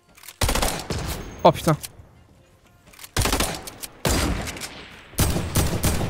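Sniper rifle shots in Fortnite crack out as loud, sharp reports several times, separated by short pauses, with a man briefly swearing in French between them.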